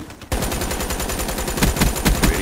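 Rapid automatic gunfire in the video game Call of Duty Black Ops 3, a dense, loud burst of shots that begins abruptly after a brief quiet moment and continues steadily to the end.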